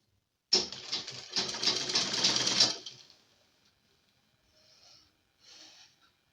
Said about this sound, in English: and then we join them together with our sewing machine.